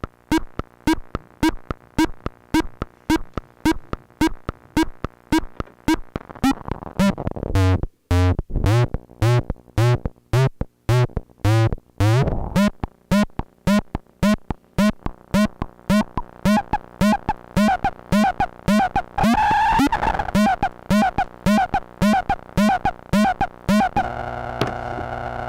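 BASTL Tea Kick synth puts out a processed square wave run through a comparator, a harsh buzzing tone broken into rapid irregular clicks and pulses that shift in pitch and density, loud and continuous, no talk.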